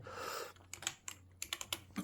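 Typing on a computer keyboard: after a brief stretch of background hum, a run of separate clicking keystrokes lands in small irregular clusters, close by and fairly quiet, with no one talking.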